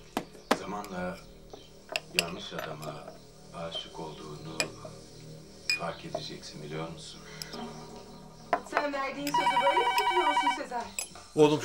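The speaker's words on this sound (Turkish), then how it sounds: "Oğlum şu telefona baksana." An indoor telephone bell rings in a loud, continuous burst for about two seconds near the end, following stretches of conversation and faint clinking household sounds.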